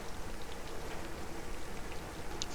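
Rain in the video game Buoyancy, a steady dense hiss of falling drops with faint scattered patters, even and continuous throughout.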